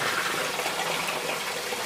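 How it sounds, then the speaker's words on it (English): Water gushes steadily through an aquaponics siphon in a tilapia tank, a loud, close, continuous rushing and splashing flow with no talk. "I can see the water is flowing the siphon is working"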